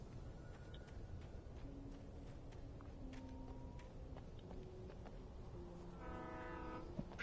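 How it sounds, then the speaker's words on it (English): A train rolls past in the Alan Wake game, a low rumbling rail noise under a dark, quiet scene, with a horn sounding near the end. "Train."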